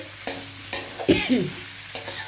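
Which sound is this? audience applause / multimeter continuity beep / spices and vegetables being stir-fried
spices and vegetables being stir-fried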